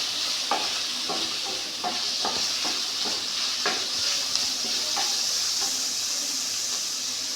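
Chicken curry masala with tomato frying in a pan, a continuous close sizzle broken by repeated scraping stirs at an uneven rhythm, with no voices.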